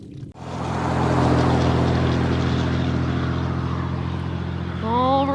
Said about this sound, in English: Heck yes, flowing out of the pipe.